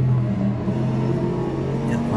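A racing supercar's engine rumbles steadily as the driver gets back on the throttle after braking, with the sound rising slightly near the end.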